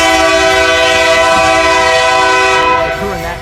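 A passing train sounds a loud, sustained multi-tone horn close by at a crossroad, the blast holding and then fading slightly as rail noise continues beneath it.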